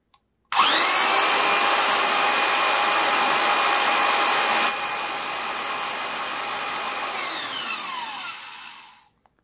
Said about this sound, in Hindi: अब इस जनरेटर को हम लोग चलाएंगे और फिर देखेंगे कि ये एंगल ग्राइंडर घूमना स्टार्ट करता है या नहीं करता है